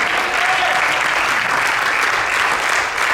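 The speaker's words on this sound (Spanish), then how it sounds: "dale esa ofrenda de palmas a él" Loud, dense applause from a church congregation at a Spanish-language service in Beaverton, Oregon, a continuous wash of many hands clapping at close range throughout.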